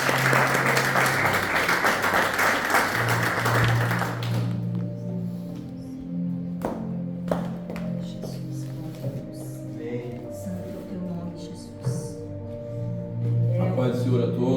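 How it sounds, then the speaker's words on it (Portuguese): A church congregation clapping in praise, a dense burst of applause over sustained music for the first few seconds, then fading into scattered claps and a soft organ-like hum with a voice speaking over it. "Que as palmas louvem ao Senhor."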